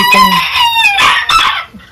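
A bantam rooster of a garnizé flock crows loudly and close by, a harmonic, rising-and-falling cock-a-doodle-doo with a few clucking notes at the end and no talking.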